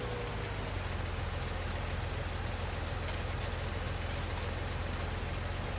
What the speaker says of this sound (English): saw it was going to be raining all day